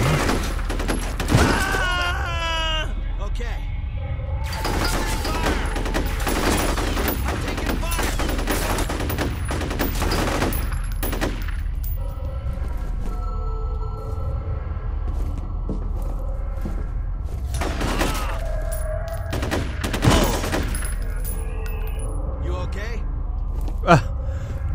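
Automatic gunfire in the shooter game F.E.A.R. breaks out in repeated loud bursts separated by quieter gaps, with mechanical clanks and a steady low hum, while a player talks at times between the volleys.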